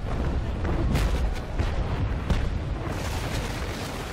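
Cannon fire from a brig in the naval combat game Naval Action Legends, a series of heavy booms and rumbling blasts rolling over a continuous dense roar of ship ambience.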